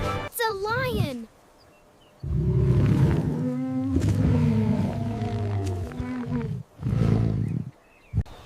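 A lion roars several times, with deep, rumbling, drawn-out bellows separated by short pauses. The calls sound close and loud, with a brief higher-pitched sound at the start.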